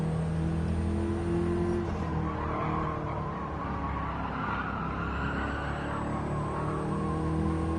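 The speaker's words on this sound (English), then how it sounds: "We really have to rev it up a bit more." Fiat car in a racing video game, its engine droning steadily with tire skids and squeals over a constant loud mechanical hum, no talk.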